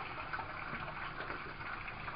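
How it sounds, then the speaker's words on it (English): Continuous bubbling and gurgling of water from an air stone in an aquaponics tank, a steady fizzing churn with no pauses, close by. "the air stone generates a column of bubbles that goes straight up, dragging water in around it"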